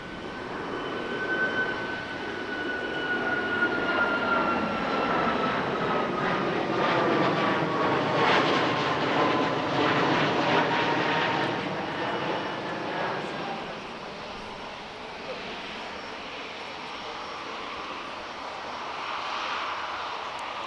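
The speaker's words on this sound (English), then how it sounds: "Here is another Boeing product. It's the Farnborough debut of the 777X-9." Boeing 777X-9 airliner flying past at the Farnborough airshow, a loud jet roar swelling and fading over about twenty seconds with shifting whine, no talk.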